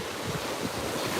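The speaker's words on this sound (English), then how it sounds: "and it's super windy" Strong wind gusts across a beach at night, a steady loud roar buffeting the microphone with the wash of surf beneath it and no voices.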